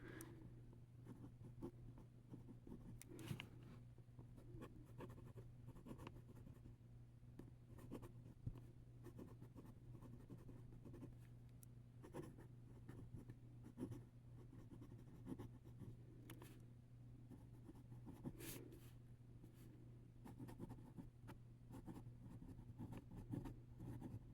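A pen scratches across paper in short, soft strokes and pauses, faint and close against a low steady hum, with no voices.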